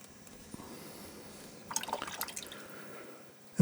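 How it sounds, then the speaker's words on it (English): A small brush flicks fine spatters of watercolor paint onto paper, heard as a faint burst of light crackling splashes in the middle of the clip against soft background hiss. "you can get some fine speckles like that, fine splashing like this"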